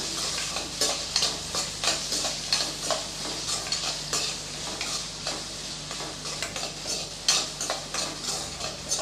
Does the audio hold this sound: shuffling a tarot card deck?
no